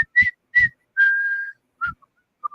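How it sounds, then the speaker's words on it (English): Someone whistles a short, bouncy march phrase in clear separate notes, one held longer, close and alone with no talking. "Yeah, they're whistling going to work."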